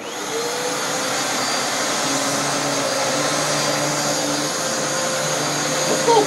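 A small vacuum cleaner runs loudly and steadily for the whole stretch, a constant whining hum with a slight bump at the end.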